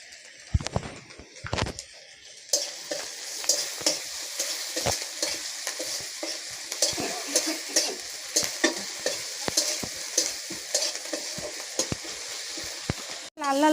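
Onions frying in a pan with a little salt for prawn malai curry, a steady close sizzle rising after a couple of seconds of quiet, broken by repeated scraping stirs of a spatula.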